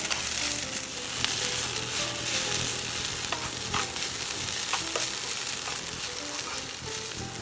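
Herb-seasoned turnips fry in a pan with salt and pepper, giving a steady, close sizzle throughout, broken by the occasional scrape and stir of a utensil and no talking.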